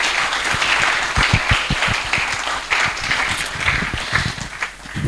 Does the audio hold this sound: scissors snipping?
no